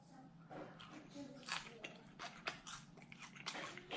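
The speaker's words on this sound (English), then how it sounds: "You hear that crunch?" Crunchy bites into fried buffalo chicken, several sharp crisp crunches and chewing sounds in an irregular rhythm, close and fairly quiet.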